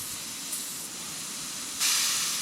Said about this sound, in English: King's Twin compressor. Sounds like the air's still coming out.